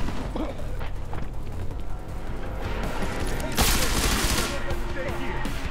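Gunfire in Deus Ex: Mankind Divided, a sustained crackle of shots under game ambience that swells into a louder burst midway, with talk mixed in.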